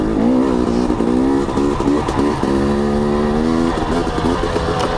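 Close, steady engine drone of a 2021 KTM 250 XC dirt bike ridden in western Idaho, holding a buzzing note with brief revs and throttle changes throughout, no talking.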